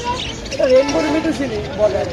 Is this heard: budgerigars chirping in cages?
yes